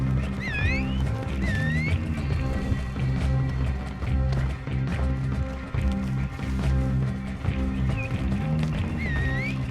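In Red Dead Online, a horse gallops with a fast, steady drum of hoofbeats, loud and close. Bright whinnies and snorts break in now and then over a busy game soundscape.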